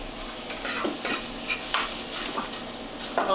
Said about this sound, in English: We just want to saute this a little bit with the onion.